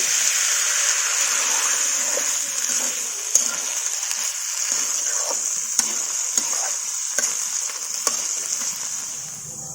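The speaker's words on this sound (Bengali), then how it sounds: "এবার দিয়ে দেবো অল্প একটু পানি।" Chickpea curry with potatoes and spices sizzles and fries steadily in a pan after a little water is added, with a constant loud hiss and occasional sharp crackles and stirring clicks.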